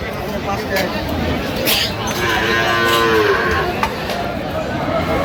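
A cow lets out a long, drawn-out moo over a busy crowd of people chattering at an outdoor cattle market in Aftabganj, Dinajpur.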